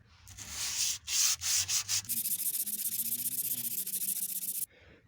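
Hand sanding on a Volvo 740 body panel, with several short rough strokes followed by a long steady run of rhythmic back-and-forth rubbing, close and fairly loud.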